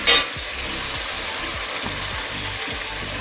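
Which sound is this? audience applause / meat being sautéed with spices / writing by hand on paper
meat being sautéed with spices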